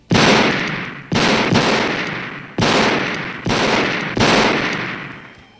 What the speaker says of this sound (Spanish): La 1 terminaba con un Miguel Mayer que lo cagaban a tiros